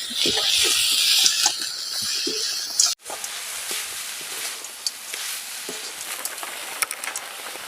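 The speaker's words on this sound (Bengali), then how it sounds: "গরম কড়ায় হাফ বাটি চিনি দিয়ে দিচ্ছি ওই চিনির মধ্যে এখন নারকেল করে দিয়ে দিচ্ছি" Sugar and coconut cooking in a hot wok for a sweet filling, a soft hiss with light scraping and rattling stirs, close and fairly steady with a brief break partway through.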